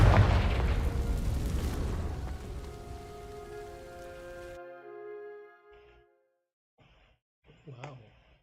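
In Hogwarts Legacy, a Confringo fire spell sets dry vines alight with a loud fiery blast and crackling roar that fades into ringing tones. After a near-silent pause, a voice speaks in brief bursts.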